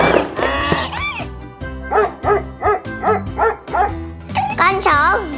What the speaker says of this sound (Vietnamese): Con chó, gâu gâu, dog, vật nuôi.